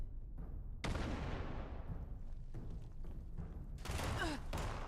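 Gunfire in the video game Fallout 76: a loud burst of shots at about one second, then a second volley of rapid shots near the end, with game noise between them.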